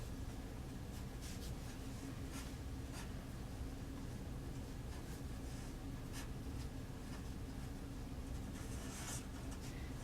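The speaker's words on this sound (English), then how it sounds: "I'm just going to write a little message on the bottom of my" Faint, intermittent scratching of a pen writing a short message on the bottom of a handmade snow globe, quiet and close, with soft strokes spaced irregularly over a low background hiss.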